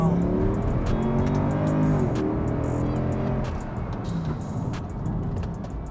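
A Mercedes C63 AMG with a 6.3-litre V8 rumbles steadily, the engine note rising and settling as it revs, loud and close with a rough low growl throughout.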